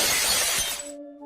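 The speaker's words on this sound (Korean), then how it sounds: "그렇게 말하고는 있는 힘껏 거울을 망치로 내려쳤다" A mirror struck hard with a hammer bursts into shattering glass, a loud bright crash with scattering shards that cuts off abruptly, followed by a faint tonal hum.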